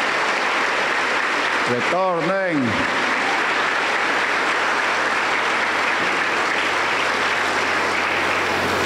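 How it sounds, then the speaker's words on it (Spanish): Church congregation applauding during a worship service in Junín, Peru, a continuous wash of clapping throughout, briefly overlaid near the start by a pastor's voice speaking. "un aplauso para el Señor Jesús"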